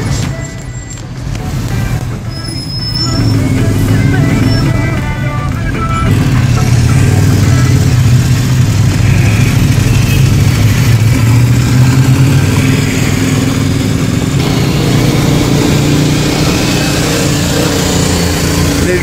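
A car pushes through Tehran traffic, its engine growling and revving close and loud as it builds speed, with surrounding vehicles blending into a continuous roar and brief talk in the cabin early on.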